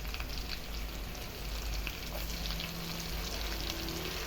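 Garlic sizzling in hot oil in a pan while cooking spicy sinantulan with crunchy bite-size pork, a steady close crackle with no voices.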